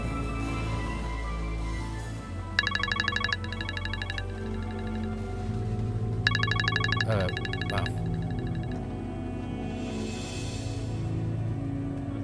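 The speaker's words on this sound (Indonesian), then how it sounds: "Saya harus terima telepon ini, penting." An electronic phone ringtone chirps in two repeated bursts over a steady background of music and voices, with a person speaking briefly.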